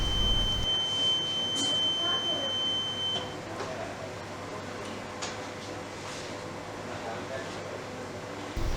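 A reconditioned oil mist detector head sounds its alarm as a steady, piercing electronic tone that holds for about three seconds and then stops, leaving a low machinery hum in the background.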